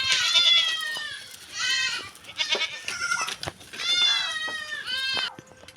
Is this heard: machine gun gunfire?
no